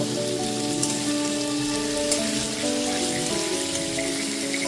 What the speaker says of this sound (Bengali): গ্যাসের ফ্লেমটা হাইতে করে নিয়ে পনিরগুলোকে এপিটোপিট করে ভেজে নেব